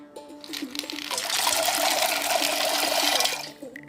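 Water poured from a vessel onto dried white lima beans in a pot to soak them, a steady splashing gush lasting a couple of seconds before tapering off, with voices talking briefly around it.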